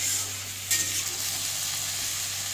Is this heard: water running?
no